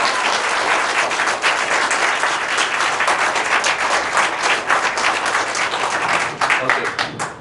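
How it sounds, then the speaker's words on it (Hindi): Students at a farewell gathering in a mobile-repair training institute give Milan sir a loud, sustained round of clapping that stays strong throughout and tapers off only at the very end. "मिलन सर जोरदार ताली बजाइए"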